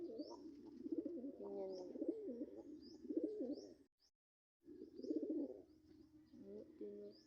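Pigeons coo in repeated low, rolling phrases close by, with faint chirps above; someone speaks briefly once, and the cooing breaks off for a short silent gap before resuming.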